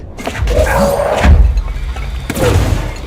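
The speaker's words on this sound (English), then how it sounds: "Explosion." An explosion in the video game Control erupts as a loud, close boom with a heavy low thud and crackling debris, followed by a second rumbling burst a moment later.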